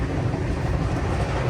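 The Kerala Express rushes along at around 130 km/h, a steady deep rumble and rattle of wheels on rail heard from inside a 3AC coach, loud and unbroken.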